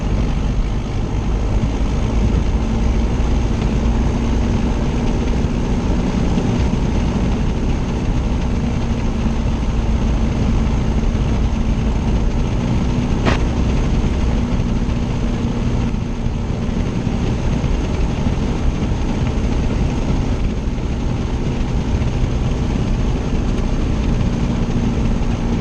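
A small propeller airplane's engine drones steadily from inside the cabin during a landing, a loud constant hum with a low rumble and a faint tonal whine throughout.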